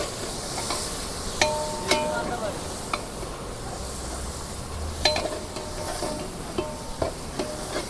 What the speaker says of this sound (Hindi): अदरक लहसुन का पेस्ट और मिर्ची का पेस्ट और खड़ा मसाला ये प्याज में डाल के आपको अच्छे से भून लेना है